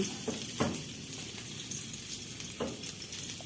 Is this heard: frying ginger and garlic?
yes